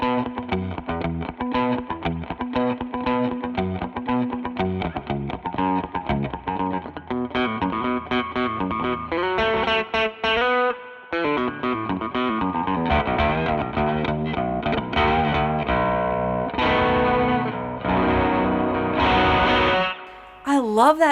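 A baritone electric guitar with a PAF-style pickup and a five-way switch is played through effects and heavy distortion, chords and riffs continuous and loud, with a brief gap near the middle and a final flourish.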